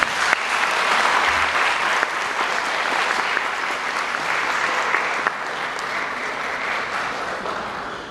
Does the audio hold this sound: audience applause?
yes